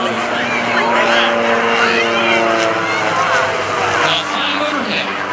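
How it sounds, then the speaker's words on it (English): An aircraft flying overhead at the Rotorfest airshow, a loud continuous engine drone with steady tonal hum layered over broad noise, while a voice talks over it. "Now flying overhead, a very unique aircraft."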